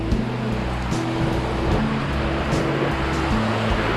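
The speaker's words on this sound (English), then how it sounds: "now you got a little waterfall going" A small waterfall on a wooded stretch of the Bruce Trail gives a steady, broad rush of falling water, continuous and fairly close with no voices over it.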